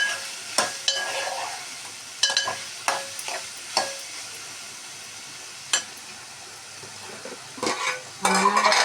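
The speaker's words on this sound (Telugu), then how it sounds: "చూసేయండి, మన కూర మగ్గుతుంది." Ivy gourd curry cooks in a pan with a soft, faint sizzle beneath it, broken by a series of sharp spatula scrapes and clinks against the metal at irregular intervals.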